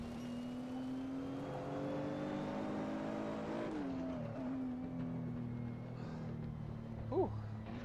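A Nissan GT3 race car engine on the Nürburgring Gesamtstrecke holds a steady, droning roar that shifts pitch as the revs drop and rise, heard at moderate level.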